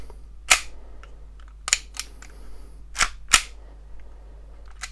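Slide of an Umarex Glock 17 Gen 4 air pistol racked and released, giving several sharp, close metallic clacks at irregular intervals over a low steady hum.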